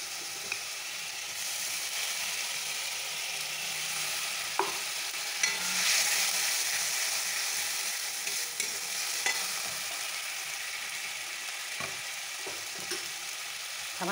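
Onion paste fries in a pan with a steady, fairly quiet sizzle lasting throughout, dotted with occasional soft scrapes and taps of stirring, heard up close with no voices.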